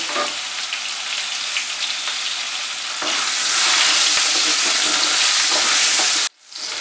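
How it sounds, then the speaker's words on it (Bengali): Pumpkin pieces crackle and sizzle loudly in a hot pan, the frying growing louder midway, then a brief stir or lift before it resumes. "এবারে আমি কুমড়োগুলোকেও ভেজে নিচ্ছি"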